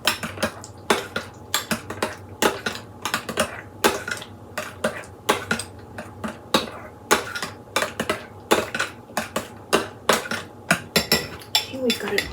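A spoon clinks and scrapes rhythmically against a bowl while homemade tartar sauce is stirred, steady close tapping strokes throughout.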